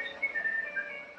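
Faint, thin whistling with a few short, wavering tones in quick succession, brief and quiet.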